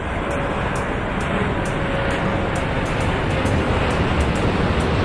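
Aircraft taking off in the airport management game Airport Madness 4 produce a continuous loud engine roar with steady broadband rush, with no talking.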